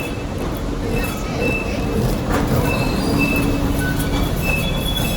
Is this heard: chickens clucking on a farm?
no